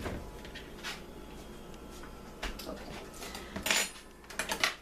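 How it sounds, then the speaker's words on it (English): A fork mashes three ripe bananas in a large bowl, giving quiet, scattered clinks and scrapes of metal against the bowl, with sharper knocks toward the end. "you're going to mash up the bananas, all 3 of them, in the large bowl"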